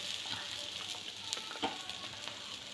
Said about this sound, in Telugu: ఇంకా ఒక గరిటెడు పిండి అయితే వేసుకొని ఇలా రౌండ్గా వేసుకోవాలి